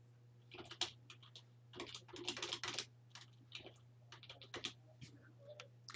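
Rapid keyboard typing on a computer, with irregular bursts of sharp clicks and short pauses, heard close and clear over a steady low electrical hum.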